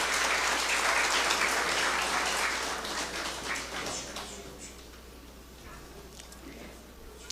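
Applause from those present at a solemn municipal council session, full and dense at first, then thinning and fading over several seconds as a voice and room noise emerge underneath.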